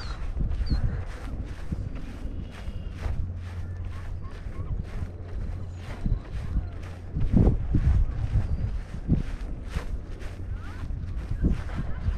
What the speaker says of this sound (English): Hopefully you can hear the wind.